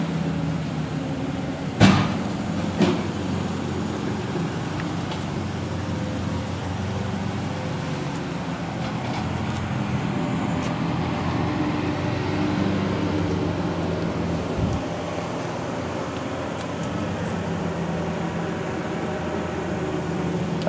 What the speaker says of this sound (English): I do apologize about the noise. That's just coming from the street over there.